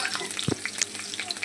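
Mint leaves and green chillies frying in hot oil for a hotel-style green chicken curry, a steady sizzle with crackling pops and a brief stir near the start.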